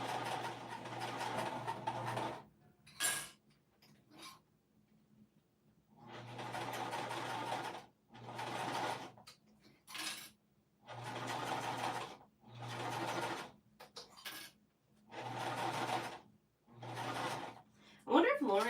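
A sewing machine stitching piping onto a fabric pouch runs in repeated bursts of rapid whirring, pausing briefly between runs, with a person talking faintly during the gaps.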